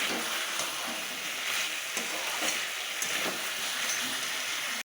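Chicken pieces fry in a hot pan with a loud, continuous sizzle and crackle, broken by faint scraping hints of stirring, with no talking over it.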